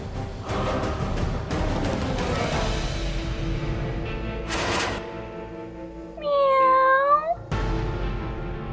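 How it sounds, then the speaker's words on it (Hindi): A cat meows clearly twice around the middle of the clip, fairly close, over a steady background hum and household noise. "बाहर कोई बिल्ली भूखी है।"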